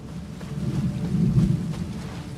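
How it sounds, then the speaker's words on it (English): Rain and a low rolling thunder rumble in the video game Elder Scrolls Online, with a steady patter over a swelling deep roll that peaks mid-clip and fades. "Rain."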